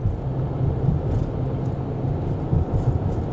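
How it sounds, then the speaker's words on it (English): Steady low road and engine rumble inside a moving Lincoln Nautilus SUV, a constant droning hum with no voices. "But you can hear this car."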